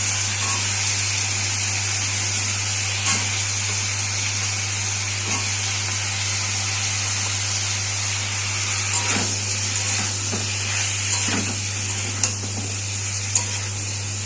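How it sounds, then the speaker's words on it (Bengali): Cauliflower and potatoes with salt and turmeric fry in oil in a pan, giving a steady, loud, continuous sizzle with a low constant hum and occasional faint clinks and stirring scrapes; nobody speaks. "নুন আর হলুদ দিয়ে ভালো করে ভেজে নেবো ফুলকপিটা। এবার আমি আলুগুলো দিয়ে দেবো।"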